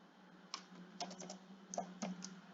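Keys clack in irregular bursts of a few strokes as code is typed on a computer keyboard, close and fairly quiet, with no voices.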